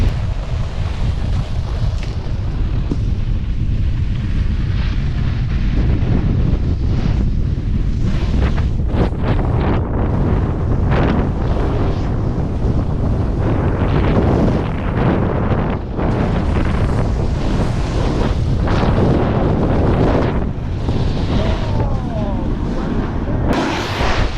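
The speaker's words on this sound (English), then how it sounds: "This wind is a little daunting." Strong gusts on a windy day buffet the microphone in a constant heavy roar, loud and rumbling throughout with brief swells, a voice faintly heard beneath.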